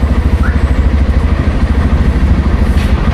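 A BMW motorcycle engine idles close by with a loud, steady low rumble and rhythmic throbbing pulses, running on its own without talk.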